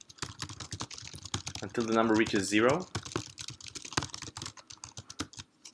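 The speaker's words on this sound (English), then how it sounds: "just typing in random characters in here" Rapid clicking of random characters typed on a computer keyboard runs throughout, with a voice talking over the middle stretch.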